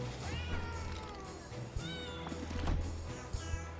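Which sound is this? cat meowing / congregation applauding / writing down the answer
cat meowing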